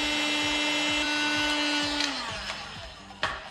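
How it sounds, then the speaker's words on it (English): A heat gun blows on a Ghost sticker on a 212 Ghost racing engine, a loud steady rushing hiss with a motor whine that winds down and cuts off, followed by a couple of light clicks. "Throw a heat gun on this thing."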